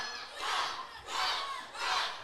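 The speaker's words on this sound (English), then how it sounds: "this crowd firing up for Rook Tyler, and Rook Tyler's feeling that energy." Indie pro wrestling crowd cheering for a wrestler in three rising and falling swells of shouting, loud and close, with no commentary over it.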